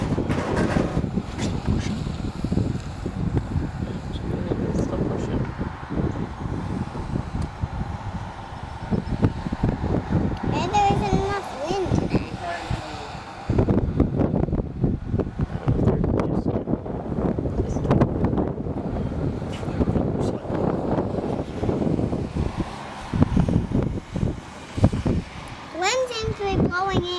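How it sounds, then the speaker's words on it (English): Gusty wind buffets the microphone continuously outdoors at an old mill on Nantucket, a loud rushing roar with voices talking intermittently underneath. "you want the wind blowing directly onto it"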